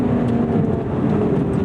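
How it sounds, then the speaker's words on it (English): Supercharged Lotus Emira driven at lower revs, a steady low engine drone with a thin whine running through it, continuous and close, with no talking. "even in the lower RPMs, makes a great noise. That supercharger whine."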